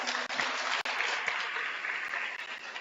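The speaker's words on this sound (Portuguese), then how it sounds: "aplaude Jesus bem forte." A church congregation claps loudly and steadily for a few seconds in a worship hall, dense crowd applause with no talk.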